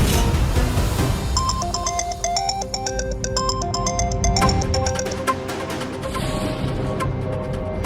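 A telephone ringtone plays a bright, repeating electronic melody that fills the room, loud and steady, with no voices over it.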